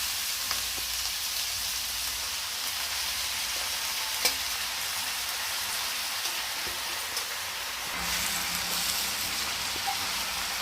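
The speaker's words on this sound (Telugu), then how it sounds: "తోటకూర వేసి ఇలా పోపు అంతా కలుపుకుందామండి" Amaranth leaves are stirred into hot oil tempering in a frying pan, giving a steady, fairly quiet sizzle with scraping stir strokes and a brief louder burst of frying near the end, no voices.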